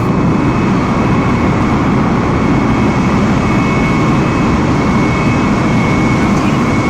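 A jet airliner rolls down the runway for takeoff in Microsoft Flight Simulator, a loud, steady engine roar with heavy low rumble that fills the whole stretch without letting up.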